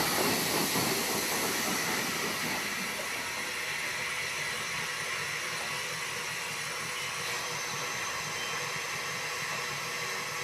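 Hanomag-built 1928 Class NGG 13 narrow gauge steam locomotive, number 49, heard as a steady loud hiss and rumble of steam and running gear, continuous throughout with no talk.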